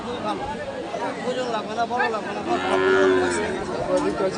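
Thin, bony cattle at a cattle market moo loudly and repeatedly over a hubbub of people talking nearby.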